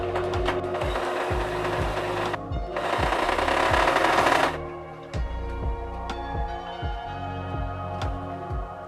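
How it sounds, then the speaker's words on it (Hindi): A sewing machine runs a plain straight stitch, its needle thumping in a fast, even rhythm close by. Brief bursts of harsher whirring noise come partway through, then the steady mechanical ticking continues alone. "अब मैं आपको एक सादा सिलाई लगाकर दिखाती हूँ।"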